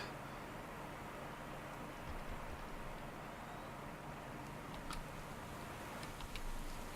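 Rain falls during a cycling race in Pro Cycling Manager 2018, a faint, steady hiss with scattered soft ticks and patters running throughout.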